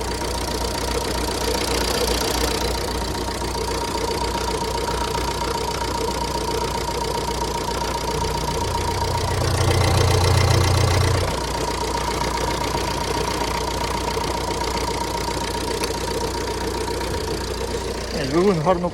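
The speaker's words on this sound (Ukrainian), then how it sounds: "сам двигун працює тихенько, рівненько" A 2010 Ford S-Max engine idles steadily with a low, even hum and faint mechanical ticking, holding constant throughout with a slight swell midway.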